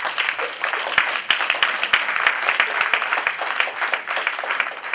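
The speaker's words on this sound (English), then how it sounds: "I want to applaud our entire panel." An event audience applauds a panel with dense, continuous clapping from many hands, close and fairly loud, with a faint voice underneath.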